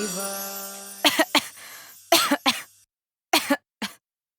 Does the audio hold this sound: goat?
no